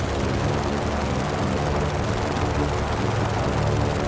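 An airplane engine drones in flight in the video game Just Cause, a loud, even, continuous roar with a low propeller-like throb and no breaks.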